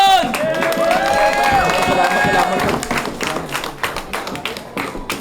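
A loud crowd at a Filipino rap battle roars, claps and cheers continuously and close by, with raised voices mixed into the din.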